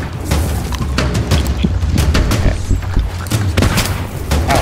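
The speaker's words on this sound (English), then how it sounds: "he's gonna start shooting with the cannon" Rapid, heavy booms and thuds of ship cannon fire in Sea of Thieves, fighting a skeleton captain, pound continuously, loud and dense, layered over a low rumbling background.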